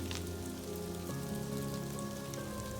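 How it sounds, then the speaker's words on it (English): Heavy sleet falls outdoors in freezing weather in Palestine, Texas, making a steady, dense hiss of pellets striking surfaces. It runs unbroken throughout with no talk. "the sleet is coming down really heavy"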